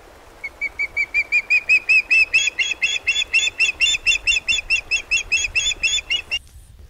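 A bird repeats a rapid series of high, bright chirping calls, about two dozen evenly spaced notes, loud and close, with no other sounds.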